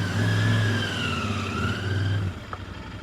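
A Royal Enfield Interceptor 650 parallel-twin motorcycle, freshly fitted with an aftermarket fuel module, idles steadily with a constant low rumble that holds even throughout, dipping slightly near the end.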